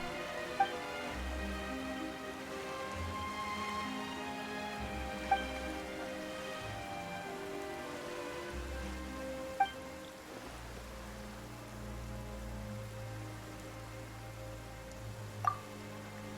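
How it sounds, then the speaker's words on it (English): Steady rain patters and drips in a Genshin Impact scene, a soft continuous wash with a few faint tick accents over low background music tones. "Why is it raining all of a sudden?"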